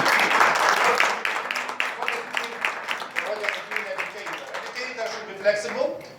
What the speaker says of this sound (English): I can applaud for myself.